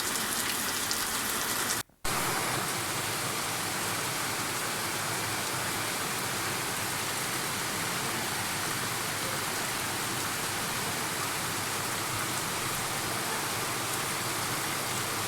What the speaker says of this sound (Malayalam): നല്ലൊരു മഴയായിരുന്നു.